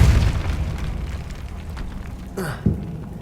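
A Depulso force spell in Hogwarts Legacy is cast as a loud rumbling blast that fades, followed by a short whooshing burst and a sharp thump near the end.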